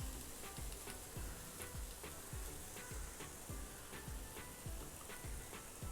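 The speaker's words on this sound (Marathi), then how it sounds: "व्यवस्थित परतून घेऊया आपण" Ridge gourd peel chutney with garam masala sizzles in a pan while being sautéed, with steady frying hiss and a regular rhythm of stirring scrapes and taps throughout.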